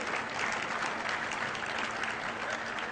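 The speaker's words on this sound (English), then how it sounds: "that's getting a big applause" A large audience at a business talk applauds, with steady, dense clapping that stays even and moderately loud throughout, like a distant roomful of hands heard from the stage.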